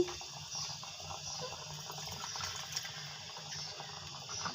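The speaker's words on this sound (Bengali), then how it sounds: "আমি প্রয়োজন মতো গরম পানি দিয়ে দিচ্ছি" Hot water is poured into a simmering pointed gourd curry with large pond fish and pumpkin bori, a steady quiet splashing and hiss that runs unbroken for several seconds with no voices.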